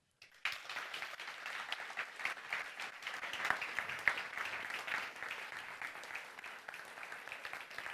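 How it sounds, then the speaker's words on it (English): An audience bursts into sustained applause for a student pitch team at a school pitch challenge, a dense steady clapping that holds at an even level from start to end. "This is your applause."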